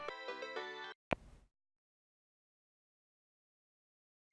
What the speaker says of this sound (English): Sound of the phone!